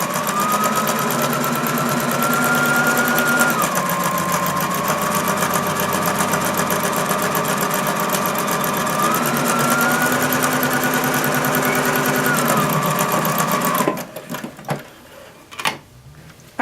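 Sewing machine stitching together the fabric pieces of a dinosaur's feet: a steady, loud mechanical whirr running evenly for about fourteen seconds, then stopping, followed by a few soft handling clicks.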